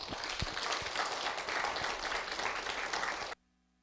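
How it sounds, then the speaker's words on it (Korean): An audience at a philosophy and humanities lecture forum applauds steadily to welcome a professor to the podium, a dense, even clapping that cuts off abruptly. "여러분 큰 환영의 박수 부탁을 드립니다."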